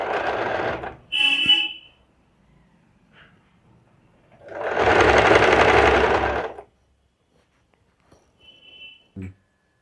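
A sewing machine stitches fabric pieces together in two whirring runs, a brief one at the start and a longer steady one midway, with short mechanical clicks and quiet pauses between.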